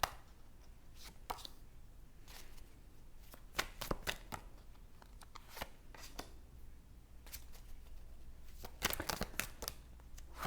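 Tarot cards are shuffled by hand, giving quiet, irregular riffling and flicking bursts close by at low volume.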